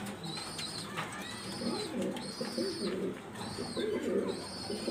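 Several pigeons of different breeds at a pigeon seller's place coo in repeated, rolling phrases, fairly close and overlapping in a soft steady rhythm, with no talk.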